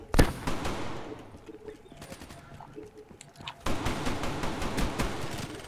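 Gunfire in the video game Black Ops 3: a sharp opening shot, then scattered pops and a few bursts, followed by sustained, loud rattling automatic fire in the second half, with no talking.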